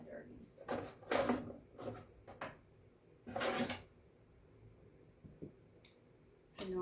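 A dresser drawer is opened and closed several times during bedroom decluttering, with wooden sliding knocks and rattles of loose contents in a few bursts. A person talks quietly in between.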